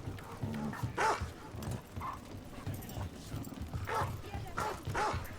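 A dog barks a few times in the video game Dragon Age: The Veilguard, short bursts scattered through busy game ambience with footsteps or hoof-like clatter, while voices talk over it.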